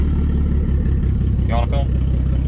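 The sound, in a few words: BMW E36 turbo M52 engine cold start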